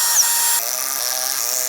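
A power drill whines steadily while driving lag bolts into pre-drilled wood to mount a swing on a playhouse frame, a close, continuous motor tone that shifts pitch slightly as the load changes.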